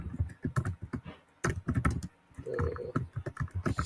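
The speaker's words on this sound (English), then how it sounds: "I'm just typing funny here." Typing on a computer keyboard during a Python coding session, a fast irregular clatter of close key presses in bursts with brief pauses.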